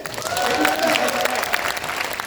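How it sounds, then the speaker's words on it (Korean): Listeners gathered at a live event break into steady, moderately loud applause, with faint crowd voices underneath. "대구 시당 박수 한번 쳐주세요"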